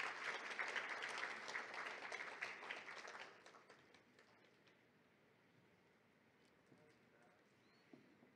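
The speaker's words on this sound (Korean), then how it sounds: "박수 부탁드리겠습니다" At a Landscape Architecture Day ceremony, an audience claps for an award recipient, a brisk crowd applause that fades after about three seconds, leaving a quiet room with faint murmurs and a stray sound or two.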